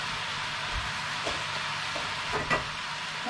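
Vegetables stir-frying in a hot pan give a steady, close sizzle, with a few scraping stirs and knocks against the pan and no voices.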